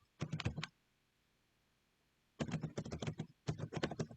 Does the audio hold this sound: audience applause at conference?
no